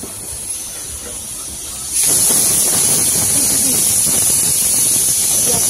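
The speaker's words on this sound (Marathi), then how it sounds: "उकळी फुटलेली आहे मित्र" A steady hiss of steam and bubbling from a pot of mango raita at a rolling boil, which swells suddenly louder partway through and then holds constant.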